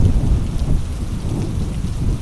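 Heavy rain pours steadily with deep rumbling thunder rolling underneath, a dense continuous storm wash with no voices.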